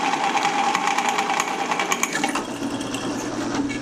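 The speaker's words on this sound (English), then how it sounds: "Just use the Sawzall to cut this in half." A Sawzall reciprocating saw cuts through a riding mower's drive belt, giving a loud, rapid, buzzing rattle that stays close and continuous throughout.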